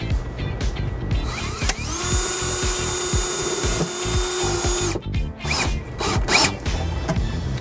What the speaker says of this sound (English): So I have my drill in place and we're ready to secure this ground wire.